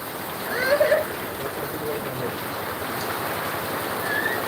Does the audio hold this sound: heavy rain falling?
yes